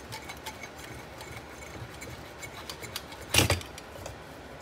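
A metal-shielded vacuum tube is tugged from its socket on a Simplex Model PB radio chassis, giving a brief metallic clatter and scrape near the end after quiet fiddling, close and alone.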